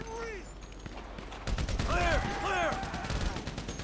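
Rapid bursts of automatic gunfire crackle in a GTA 5 firefight, a dense volley clustered mid-clip with sharp whistling ricochet-like tones and game music in the background.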